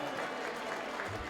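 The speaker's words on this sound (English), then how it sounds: "Big round of applause for such a wonderful group of people" Applause from an audience at a school district awards evening, a brief steady burst of clapping at moderate distance with a low-level murmur under it.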